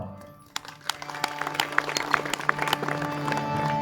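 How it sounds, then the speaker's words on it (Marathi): Audience clapping at a Marathi kirtan devotional performance, a scattered start of claps that builds into steady, dense applause from a crowd, with a sustained musical tone beneath. "एक वेळ गायनाच्यासारखे मनापासून टाळ्या वाजवा."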